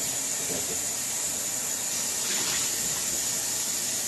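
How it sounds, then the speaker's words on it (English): Tap water runs steadily while a juicer part is rinsed of leftover pulp, a continuous hiss and splash at close range with a slight swell midway, no voices. "I'm going to rinse it before I separate the pulp again."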